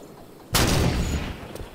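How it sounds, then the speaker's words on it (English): Sniper rifle fire in Halo 5: a sudden loud, close blast with a long rumbling tail that decays over about a second, followed by a smaller crack near the end. "I'm hitting him with sniper rifle."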